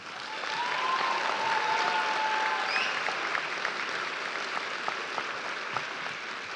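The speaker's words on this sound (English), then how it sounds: "let's give them a round of applause, please" A large crowd at a 2026 high school graduation ceremony gives a steady, dense round of applause, swelling in quickly and holding evenly, with faint whistles and cheers inside it.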